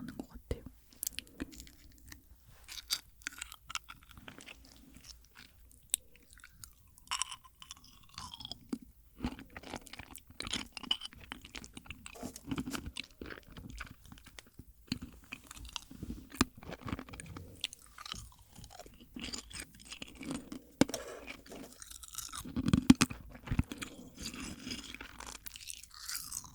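Brittle dalgona, Korean sugar candy, bitten and chewed close to the microphone, with sharp crunches and moist chewing in an irregular rhythm and occasional soft speech.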